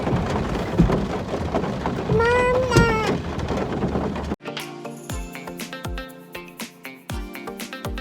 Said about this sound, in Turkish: şu an daha normal bir yağmur var